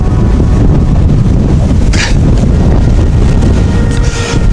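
Steady wind roars across a mountain summit at night on Minjujisan during a night hike, a constant loud rush buffeting the microphone with a few gusty hisses and no talk over it.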